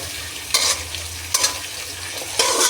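Onions stir-fry in a hot pan, a constant loud sizzle with three bursts of scraping as the spatula turns them, close and unaccompanied by talk.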